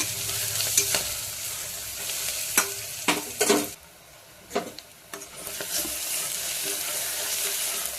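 Onions frying in a pan with turmeric, salt and chili added, a steady close sizzle broken by scraping stirs and clinks of a spoon against the pan, with one brief quieter pause.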